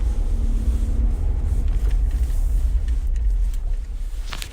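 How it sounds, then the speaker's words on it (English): A car is being parked, heard from inside as a steady low engine rumble and road noise that eases slightly toward the end, with no talking. "I'm parking my car."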